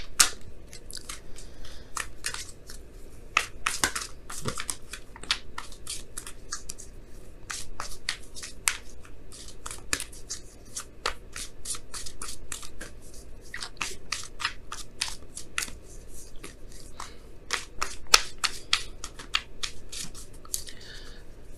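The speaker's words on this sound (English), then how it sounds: "let me go ahead and pull your Wisdom of the Oracle card for the week" Oracle cards being shuffled and pulled from the deck, with quick dry riffling and flicking snaps repeating close by, with no talking.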